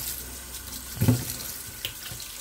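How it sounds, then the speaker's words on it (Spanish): A strong stream of tap water pours over kidneys in a colander at a kitchen sink, a steady close splashing rush that swells briefly midway, with no voices. "un buen chorro de agua"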